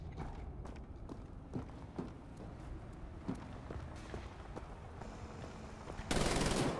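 Wolfenstein: The New Order gunfire sounds as sharp, spaced shots and mechanical clanks over a low, rumbling game ambience, ending in a sudden loud burst of noise.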